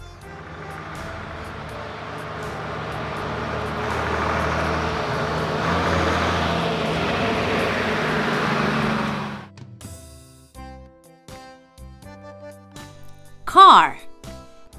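A pickup truck's engine rumbles steadily and moderately loud for roughly nine seconds before cutting off, followed by a quiet stretch and a short high sweeping tone.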